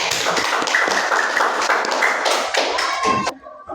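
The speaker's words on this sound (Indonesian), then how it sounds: "Coba tepuk tangan buat kita." A class of students claps hands in a burst of dense, overlapping claps, loud and close, with a few voices mixed in before the clapping tapers off near the end.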